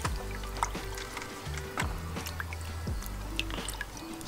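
A pot rinsed out with water while repotting a bougainvillea: steady dripping and trickling, with irregular splashes and water knocking against the container, fairly quiet and close.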